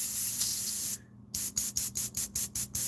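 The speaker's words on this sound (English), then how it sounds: "you put them in an airbrush and start spraying them all over the place" An airbrush sprays ink in a steady loud hiss, cuts off briefly, then returns in a run of short rhythmic bursts with gaps between them.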